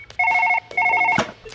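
A telephone rings in Surgeon Simulator 2013, two loud electronic trill bursts separated by a short gap, followed by a brief clatter, with no talk.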